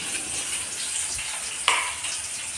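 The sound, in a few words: frying spinach, eggplant and flat beans in a pan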